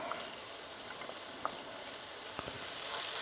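Minced garlic sizzling in a pan as it is stirred, a quiet, steady frying hiss with occasional small scrapes and pops, low in level with no voices.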